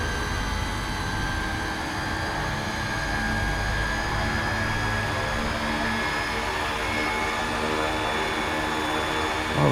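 A 1/6-scale RC Bell 429 helicopter with its motor timing set to high runs at a constant whining pitch, steady sharp tones over a rushing rotor wash, near and loud for the whole stretch.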